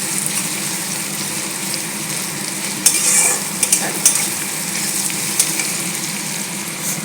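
Onions frying in oil with a little sugar stirred in, for a mutton curry: a steady broadband sizzle throughout, broken by a few brief sharper crackles and stirring scrapes near the middle, with no one speaking.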